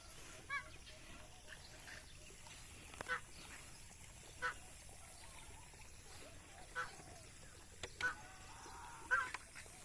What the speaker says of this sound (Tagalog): Yan, mga naligo na yung mga alaga nating pato.